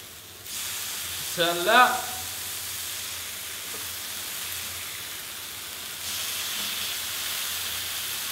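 Flipped burger patties sizzle on a hot griddle with a steady, close hiss. A brief spoken phrase comes early, and the frying grows a little louder again near the end.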